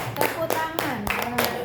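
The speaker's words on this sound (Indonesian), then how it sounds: "Tepuk tangan yang luar biasa Bu" Clapping from an audience at a ceremony, with scattered hand claps heard under a voice speaking loudly throughout.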